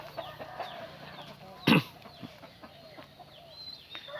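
Farm chickens clucking as they feed: scattered soft clucks and chirps, with one loud, close squawk in the middle, and no voices.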